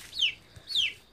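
Two short, high-pitched bird calls about half a second apart, close by and fairly clear over a quiet background.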